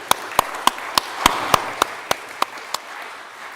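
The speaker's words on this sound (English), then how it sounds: "I think we should give you a quick round of applause at this point" About a dozen sharp, evenly spaced claps from someone at a business congress, close and distinct, a little quieter by the last few.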